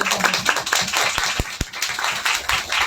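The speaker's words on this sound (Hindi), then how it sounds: "बहुत सुंदर तालियां" An audience at a devotional harikatha gathering in Mumbai claps together, a steady crowd of hand claps with a few sharp louder taps, no voices.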